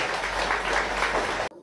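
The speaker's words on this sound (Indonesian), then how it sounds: "Tepuk tangan untuk Indonesia" An audience at a lecture claps in a brief, steady burst of applause that is cut off abruptly after about a second and a half.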